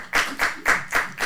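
Five evenly spaced hand claps in a steady rhythm, close and fairly loud, with no talk over them.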